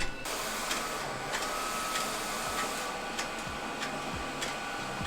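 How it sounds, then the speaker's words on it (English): A large-format sign shop printer begins a long print job, its carriage making a steady mechanical whir with regular soft ticks and thumps roughly every second, moderately loud and close, with no talking. "so I think we're good to start printing"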